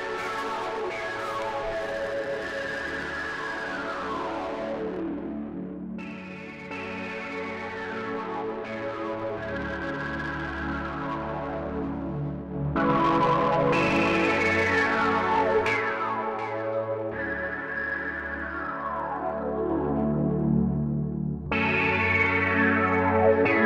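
The u-he Diva software synthesizer plays with its low end filtered out: bright, chorus-heavy synth chords swell and repeat in several long phrases, each with falling sweeps and echoing tails.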